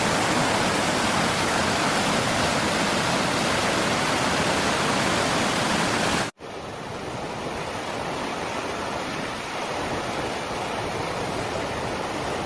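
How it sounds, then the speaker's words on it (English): Water pours from dams and reservoirs in southern Spain as a loud, dense, continuous roar of rushing water, cutting abruptly midway to a slightly softer but still powerful torrent. "discharge of water from dams and reservoirs across southern Spain"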